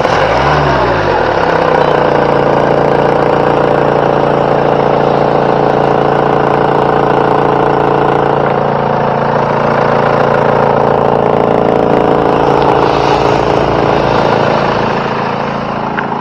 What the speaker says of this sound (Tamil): வண்டியோட இன்ஜின் சவுண்டை பார்த்தீங்கன்னா கேட்போம்.